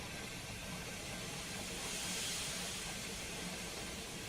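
A steam locomotive's safety valves blow off in a steady, loud, bright hiss that holds unbroken for about four seconds, with no talking.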